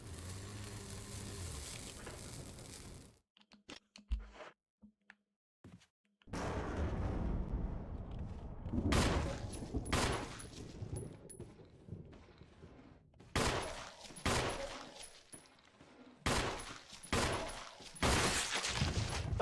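Gunshots in the Resident Evil Remake video game, several sharp, loud blasts in the second half with quieter ambience and short gaps between them, following an opening stretch of steadier game sound.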